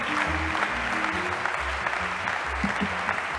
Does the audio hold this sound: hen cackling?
no